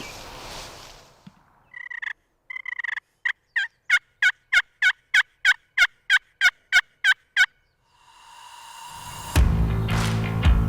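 Wild turkey hens give a rapid series of sharp, evenly spaced yelps that ring out clearly, a dozen or so in a row, in a field near a decoy, followed by rustling and a burst of noise.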